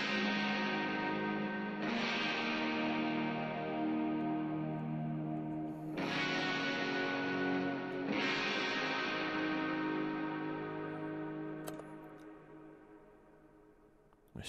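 Sustained electric guitar chords awash in heavy reverb, each new chord swelling in and ringing out into a long, washy tail.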